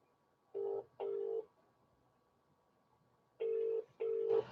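A telephone ringback tone heard down the line: two pairs of short, steady buzzing rings separated by a pause, with no talking.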